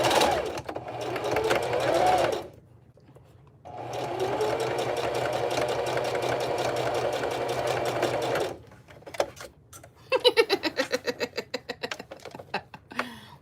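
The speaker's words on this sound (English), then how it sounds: "I'm just going to sew right down this line here on all 3 sides." A sewing machine stitches along the lines of a fabric gnome tag in several runs of rapid mechanical chatter, stopping between runs and ending with slower separate stitches, close and clear.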